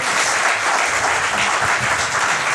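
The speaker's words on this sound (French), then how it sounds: "On peut les applaudir encore, les candidats d'avoir participé à ça" Steady, dense audience applause fills a televised grand-finale stage show, a continuous wash of many hands clapping without pause, loud and close throughout.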